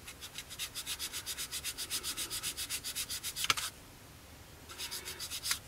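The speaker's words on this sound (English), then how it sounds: "with a sander" A small sander rubs in fast, even back-and-forth strokes over the wing roots of a 1/48 scale Kinetic Pucara model aircraft, stopping briefly midway before resuming for a few more strokes.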